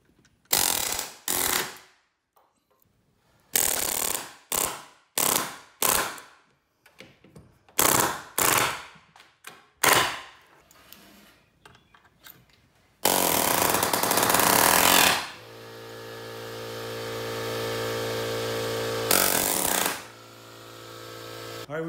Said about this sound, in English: positive placement tool. But I love this. It just makes the nails disappear.